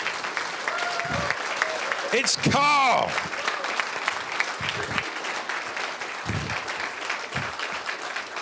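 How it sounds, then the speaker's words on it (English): An audience applauds an award winner at a trader of the year ceremony, with steady clapping running throughout and someone talking over it, plus a brief ringing tone partway through. "Give him a round of applause, guys."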